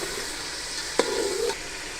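Beef frying in a pot for golden pulao hisses in a steady low sizzle, with one sharp knock followed by a short scraping stir.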